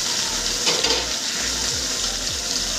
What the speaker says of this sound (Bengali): রায়খোর মাছটা আমি সুন্দর করে ভালো করে ভেজে নেব।